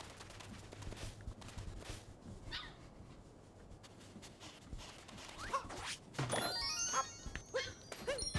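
A dog in a Mario video game gives faint, short barks and whimpers amid scattered soft clicks and rustles, with a louder burst of activity toward the end.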